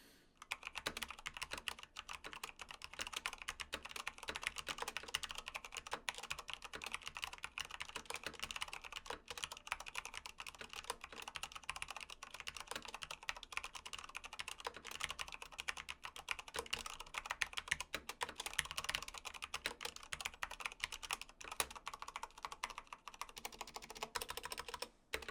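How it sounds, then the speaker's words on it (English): Steady, fast typing on a Corsair K95 RGB Platinum XT mechanical keyboard with Cherry MX Speed switches, its crisp clustered keystrokes running unbroken and close up with no voice. "I got my XT and Cherry MX speed switches, and as always, I'm going to give you guys a quick sound test."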